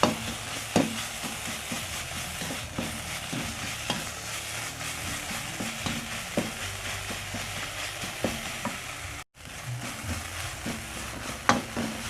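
Mushrooms stir-fried in a dry pan over low heat, giving a continuous soft sizzle with intermittent scraping and tapping from the stirring utensil, close and steady with one brief gap.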